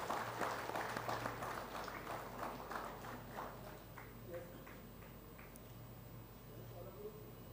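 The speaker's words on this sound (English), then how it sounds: "A round of applause," An audience gives a round of applause at the Wings India 2026 aviation curtain-raiser ceremony, clapping that is strongest at first and gradually thins out, over a low hum in the hall.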